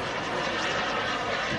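A BAE Hawk Mk66 large-scale RC model jet with a turbine engine flies a display, giving a steady, loud, broadband turbine roar with no break.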